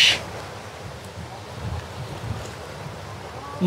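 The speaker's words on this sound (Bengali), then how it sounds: "দেখতে পাচ্ছেন প্রচণ্ড বাতাস" Strong wind buffets the microphone at a river confluence near Chandpur on a rainy day with rough waves, a continuous low rumbling roar with gusty swells and no talk.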